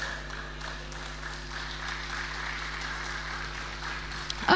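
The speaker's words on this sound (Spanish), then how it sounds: "Aplaudile con ganas, porque le estás aplaudiendo a su palabra." Congregation applause fills a church service, a steady, moderately loud wash of clapping that holds evenly throughout with a slight swell at the very end.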